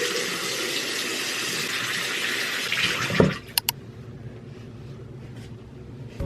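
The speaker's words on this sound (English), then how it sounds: "I just quickly rinsed off my face to make sure I didn't have any gunk on my face" A bathroom tap runs steadily while a face is rinsed, then shuts off with a couple of sharp drips and clicks, leaving a faint hum.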